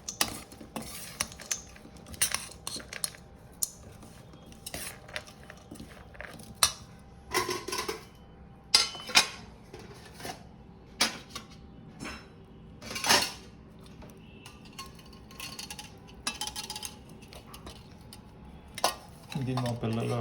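A spoon tossing vegetable salad in a bowl, making irregular clinks and clatters against the dish, with quieter stirring between them and some background murmur.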